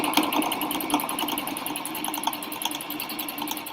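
A sewing machine stitches a denim bag, a steady rapid mechanical chatter of needle strokes with a motor hum underneath, close and continuous for a few seconds with no voices.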